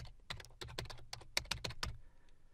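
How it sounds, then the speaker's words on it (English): A PowerShell command is typed on a computer keyboard as a quick run of a dozen or so crisp keystrokes that stops abruptly, leaving near silence, with no talking. "So the way that we would do this is to type set location"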